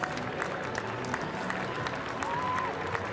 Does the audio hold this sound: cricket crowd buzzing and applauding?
yes